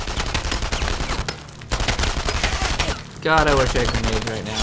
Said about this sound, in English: they're shooting me through the fucking window